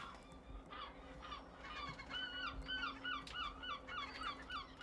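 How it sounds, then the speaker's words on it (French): Seabirds nesting aboard an abandoned, rusting ship call out in a chorus of honking, goose-like cries, fairly faint and somewhat distant, growing busier toward the end. "une présence forte de tous ces animaux, de tous ces oiseaux à bord qui ont vraiment pris possession du bateau"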